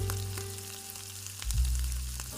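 Tempeh frying in hot oil in a pan, a steady close sizzle with faint crackles and a brief clatter partway through, no voices.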